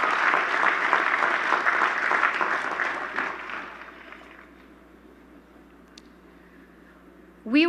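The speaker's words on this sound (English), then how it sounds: "please, give yourselves a round of applause" Graduates at the City College of New York 2018 commencement ceremony applaud in a large, dense wash for about four seconds, then the clapping fades into quiet hall ambience before a brief sharp noise at the end.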